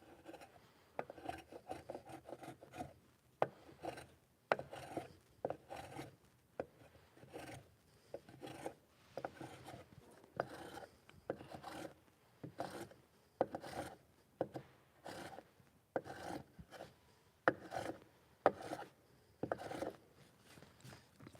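Hand plane shaving a soft Douglas fir board in repeated rasping strokes, each pass a short scraping burst with brief pauses between, steady and close throughout with no talking.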